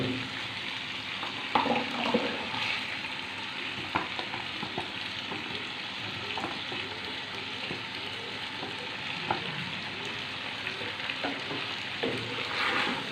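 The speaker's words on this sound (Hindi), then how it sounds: "ऐड करने के बाद मैं इस पास्ता को वाइट सॉस में मिक्स करूँगी" Pasta being stirred into white sauce in a pan for a chicken pasta dish, with soft scraping and stirring strokes over a steady low sizzle, close and fairly quiet, no talking.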